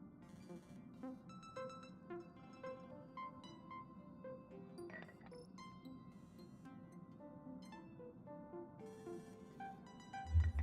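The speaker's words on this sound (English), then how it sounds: "what song was playing as my ringtone" A phone ringtone plays a song as a steady melodic tune of repeated bright tones over a low backing, lasting several seconds with no voices.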